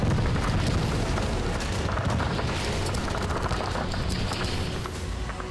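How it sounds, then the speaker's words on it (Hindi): Sustained gunfire from Russian troops shooting at a small two-seat training aircraft in flight, with booming blasts, dense overlapping bursts throughout, loud and continuous with no voices. "हवा में उड़ रहा है एक छोटा एयरक्राफ्ट और रूसी फौज इसे गिराने के लिए फायरिंग कर रही है।"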